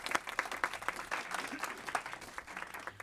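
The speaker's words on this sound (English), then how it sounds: "Let's give a nice round of applause." A small crowd applauds at a city council meeting, steady patter of clapping holding throughout at moderate volume, with no voices over it.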